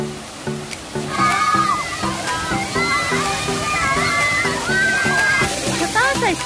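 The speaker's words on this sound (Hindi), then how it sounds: "छोटा सा स्ट्रीम है ये" Water from a small stream at a waterfall on an outing rushes and splashes steadily nearby, with lively voices and chatter of people, including children, over it.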